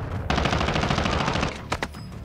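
Sustained automatic gunfire in the video game Call of Duty: Warzone, a loud rapid stream of shots lasting over a second, followed by a couple of sharp separate reports, with no talking.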